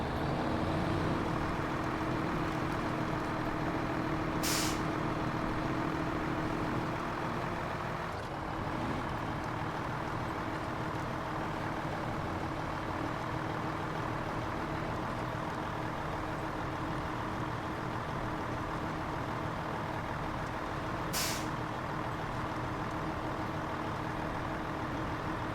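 A heavy rescue truck in the video game SnowRunner drives with a steady, continuous engine drone, loud and close throughout.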